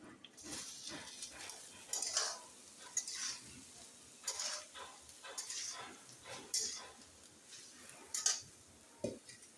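A spoon stirring and mixing vegetable pulao in a pot on a gas stove, repeated scraping and clattering strokes over a soft sizzle, fairly quiet and close, no talking.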